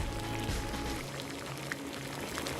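An ice cube melting on a hot pan gives a soft, continuous sizzle and bubbling hiss, quiet and steady throughout with no voices.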